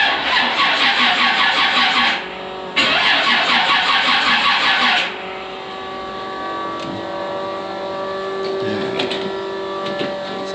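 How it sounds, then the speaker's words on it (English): High-torque starter cranking a G-body Monte Carlo SS stroker engine, two loud, fast, even cranking bursts separated by a short pause, then a steady idle-like hum with a faint whine once cranking stops. "you hear how quicker it sounds turning over"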